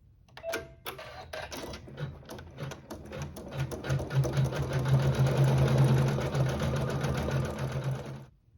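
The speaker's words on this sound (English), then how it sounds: "place the thread color of your choice in the needle and we will sew some decorative details" A sewing machine stitching decorative details on a quilt runs in a rapid, even mechanical patter after a few short starting clicks, building steadily and then stopping.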